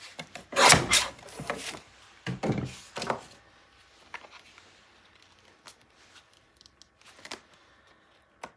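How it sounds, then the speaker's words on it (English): Folded paper pages for a mini album are trimmed down together, making a few loud, close rasping cuts and slides early on, then quieter scattered taps and rustles. "So I am going to just keep them folded and trim them both down at the same time."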